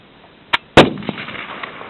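Gunfire from a machine gun crew at a military shooting demonstration: one short crack, then a louder blast that rings out and decays across open ground, with a fainter shot after it.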